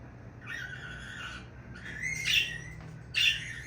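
A pet bird named Angel gives a few bright, sharp calls while flying indoors, heard over a steady low room hum, with the calls growing louder toward the end.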